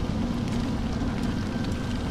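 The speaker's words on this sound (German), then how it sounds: "Oh, es regnet." Rain in the horror video game The Evil Within, a steady dense patter with a low rumbling wash underneath, continuous and even throughout.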